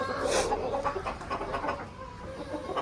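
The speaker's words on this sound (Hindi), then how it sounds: "मुर्गा लड़ने शुरू हो गया" Roosters fighting, clucking and squawking in a steady scuffle, fairly close, with faint voices in the background.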